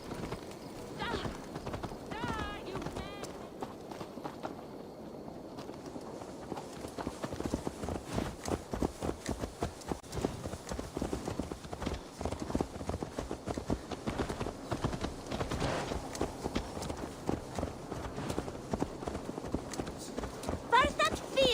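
Horse hooves clip-clopping in the video game Assassin's Creed Valhalla, a steady rhythmic trot of hoofbeats that picks up partway through, with game music and a voice talking over it.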